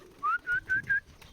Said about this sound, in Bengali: কবুতরগুলোকে খাবার দেই নাই এখনো